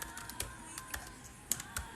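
Typing on a computer keyboard: a quiet run of light, irregular key taps with a few sharper clicks, close and alone with no talking.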